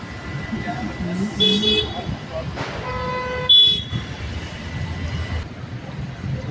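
Road traffic at night with cars passing and several short horn toots, one louder blast near the middle, while people talk in the background.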